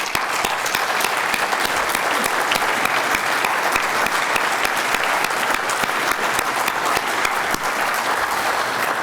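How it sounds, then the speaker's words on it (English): An audience at a hockey hall of fame induction applauds steadily and loudly, with dense clapping sustained throughout and no voices standing out. "I applaud you now."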